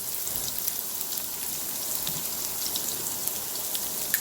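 Food sautés in an Instant Pot while rajma masala is being made, producing a steady, even hiss of sizzling with faint crackles throughout and no talk.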